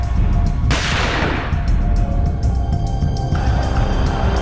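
Gunfire in a street during violent clashes in Delhi, sharp cracking reports over loud continuous crowd and traffic din, one strong burst near the start among dense noise.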